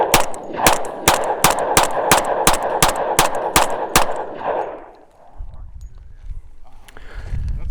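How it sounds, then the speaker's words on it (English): A Tangfolio Witness 10mm pistol fires a fast, steady string of about twelve loud close shots outdoors, evenly spaced, then the shooting stops and only wind noise and faint handling remain. "But I'm going to do a couple more mags to this thing, and let's see if we can get it to cycle better."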